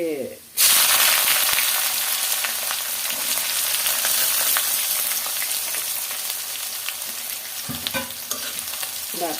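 Dried chillies frying in hot oil give a loud, steady sizzle that starts abruptly and holds for several seconds, with scraping stirs and a brief voice near the end.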